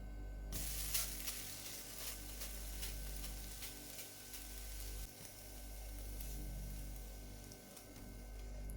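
A thin crepe-style pancake sizzles in a hot pan, a quiet, steady crackling fry that starts abruptly and runs on alone.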